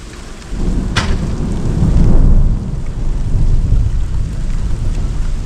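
Heavy rain pours loudly outdoors on a rural Portuguese homestead while thunder rolls low and long through the steady downpour, with a sharp crack near the start and no talking.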